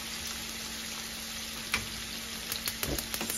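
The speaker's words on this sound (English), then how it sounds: "So I just need to finish sauteing the fish, and then I can plate it." Swordfish sizzles steadily in a frying pan, a soft continuous frying hiss with a few light clicks and stirring sounds from the pan.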